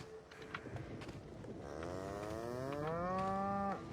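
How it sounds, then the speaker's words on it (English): Woolly cows in the video game The Outer Worlds give a long, drawn-out moo that swells and holds steady, loud and close, with no talking over it. "Here's the woolly cows."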